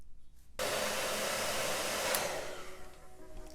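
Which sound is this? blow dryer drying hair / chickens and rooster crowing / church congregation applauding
blow dryer drying hair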